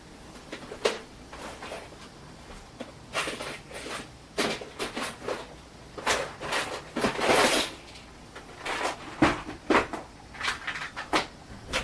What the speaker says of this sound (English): Opening closet window.